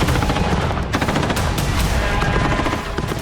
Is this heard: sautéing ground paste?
no